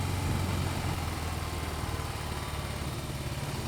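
A BMW R18 100 Years edition motorcycle engine runs in a steady, loud, continuous rumble, heard on board while riding, with a dense mix of engine roar and wind noise.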